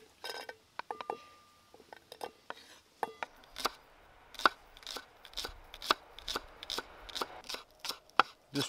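Knife chopping food on a small chopping board at a camp, a series of sharp, close wooden taps in an uneven rhythm that grow steadier and louder toward the end.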